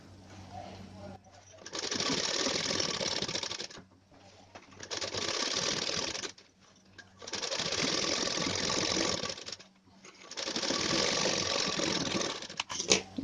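Sewing machine stitching a garment armhole in four steady runs of rapid mechanical whirring, each a couple of seconds long, separated by short pauses, close and fairly loud.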